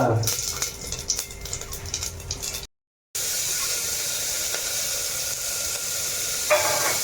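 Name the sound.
cumin seeds sizzling in hot oil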